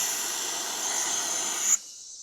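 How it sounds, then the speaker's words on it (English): Steady pneumatic hiss from an air jack set beneath the rear frame rail of a 1959 Pontiac Catalina two-door, fed by a compressor at 120 psi, runs loud for under two seconds, then cuts off abruptly, leaving only faint residual hiss. "I've got the air pneumatic jack right underneath the rear frame rail"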